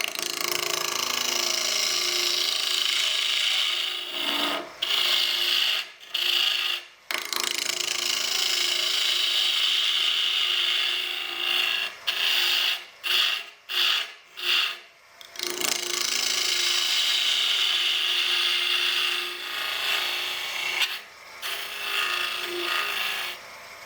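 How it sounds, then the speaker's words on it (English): Hand tool scraping boxwood while shaping a Saturn box with a captured moving ring, a steady dry rasping in long strokes broken by several brief pauses, close and alone. "boxwood is very suitable for scraping"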